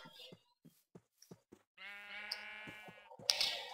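A sheep bleats in a video game, a single drawn-out wavering bleat following a series of soft, evenly spaced tapping footstep-like sounds, quiet and close, ending with a brief sharp click.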